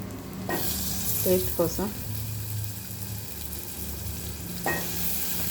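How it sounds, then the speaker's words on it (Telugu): Green chilies, onion and mustard seeds frying in oil with a steady, close sizzle, a few clinks and scrapes from stirring, and a voice speaking briefly over it. "మంచిగా నూనెలో ఫ్రై కావాలి"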